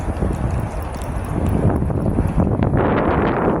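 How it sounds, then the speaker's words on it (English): Strong wind roars continuously across the microphone beside a creek during trout fishing, a loud broadband rush with no speech. "Wind is blowing really, really hard now, and it's making it really hard to fish."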